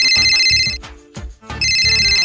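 A phone rings for an incoming call with a loud electronic ringtone that repeats in a bouncy melodic pattern. It is close and clear, with no talking over it.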